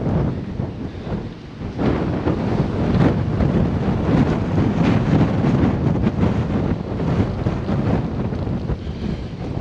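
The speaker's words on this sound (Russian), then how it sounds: "Ну, я вам скажу, ветер усилился." A strong, cold storm wind batters a central beach on the Taman coast, roaring and buffeting the microphone continuously in loud gusts, with surf rumbling beneath and no voices.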